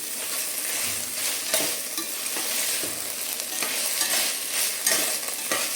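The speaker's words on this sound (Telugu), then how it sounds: "ఇప్పుడు అల్లం వెల్లుల్లి పేస్ట్ ఒక టేబుల్ స్పూన్. ఇది కూడా బాగా ఫ్రై అవ్వాలి." Ginger garlic paste fries with onions in a pan while being stirred, a loud continuous sizzle with scraping stirs rising and falling, and no voices over it.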